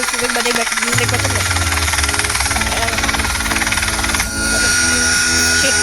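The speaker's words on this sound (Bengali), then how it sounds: "তো হেলিকপ্টারের কন্ট্রোল খুবই সহজ।" Helicopter engine in the video game Los Angeles Crimes, a loud steady droning whine with rapid rotor chop that shifts in tone partway through, while someone talks over it.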